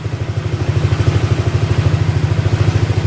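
A motorcycle engine with its TPS sensor unplugged, running loud and close in a fast, steady pulsing putter as the revs climb a little higher, with no talk over it.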